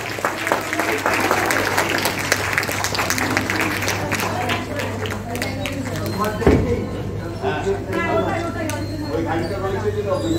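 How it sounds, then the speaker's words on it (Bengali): Audience applause at a 137th birth anniversary ceremony organised by the Rabindra Bharati Society, a steady, dense clapping that runs throughout beneath a low hum, with talk mixed in. "একটু জোরে করতালি হোক মুহূর্তটাকে।"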